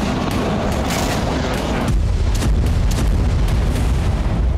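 Heavy booming blasts from missile and drone strikes on Sevastopol Bay roll together into a loud, continuous rumble, with sharper impacts layered over a dense low roar and no voices.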